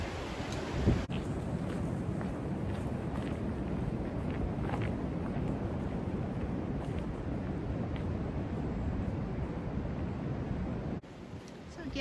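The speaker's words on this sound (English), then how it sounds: "super windy today. You can hear it in the background" Strong wind roars continuously against the microphone on the Appalachian Trail near Fuller Lake, a dense rushing rumble that drops off briefly near the end.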